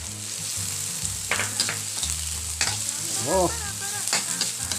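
Onion and ginger sauté in a pan for escabeche, a close, steady sizzle with stirring clatter, and a voice briefly exclaims partway through.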